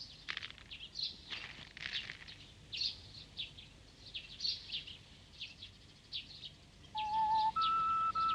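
Small sparrows chirp in short, scattered bursts of high tweets close by, with a steadier whistled note toward the end; no talking.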